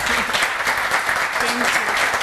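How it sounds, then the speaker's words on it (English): Audience applause following a talk at a Python development conference, steady and fairly loud clapping from a crowd filling the whole moment without a break. "I'd really like to give you a round of applause for actually what you're doing."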